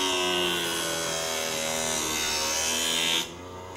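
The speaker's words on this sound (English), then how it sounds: "Once you are lined up and ready to sharpen," A skate blade is ground on a Blackstone X0 sharpening machine, giving a steady, loud, harsh grinding whine for about three seconds before it cuts off abruptly to a quieter hum.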